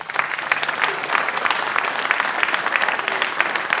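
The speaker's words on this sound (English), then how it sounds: "So let's give our 8th graders a round of applause." An audience at a school board scholar awards ceremony claps steadily for eighth graders, a dense even patter of applause in an indoor room.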